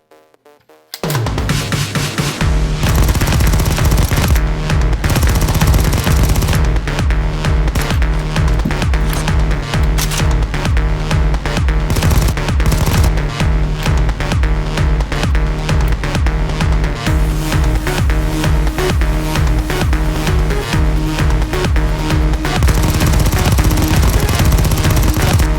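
A Lego-built MP7 gun firing in a long, dense run of rapid, evenly spaced mechanical clacks and snaps, loud and close, continuing steadily for the whole stretch with no talk.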